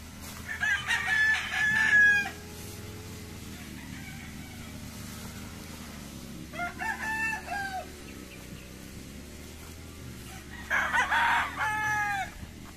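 Gamefowl roosters crow several times at a game farm in Tugbok, Davao City, Philippines, one long call early and more later, over a steady background of clucking farm birds and ambient noise.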